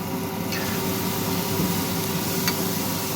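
Oil sizzles in a frying pan in a continuous, even hiss with faint crackles, loud and close, with no voices.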